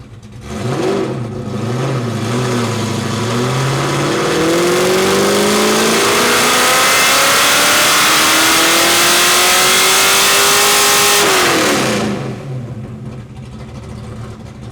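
A loud Fox-body Mustang engine on a dyno revs steadily upward through the gears under load for about ten seconds, then cuts off and winds down.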